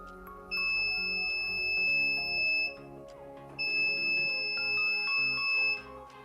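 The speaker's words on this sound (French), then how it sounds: "Ici, il est programmé pour que l'alarme se déclenche à moins de 60 cm." A piezo buzzer on an Arduino circuit with an HC-SR04 ultrasonic sensor, set to trigger under 60 cm, sounds a steady high-pitched alarm tone in two long bursts of about two seconds each, over faint music in the background.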